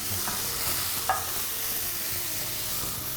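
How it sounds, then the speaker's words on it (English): Oyster mushrooms frying in piping hot oil in a pan, a steady close hiss of sizzling with a faint crackle, continuous and even. "Make sure the oil is piping hot because we really want to create a nice crust on these"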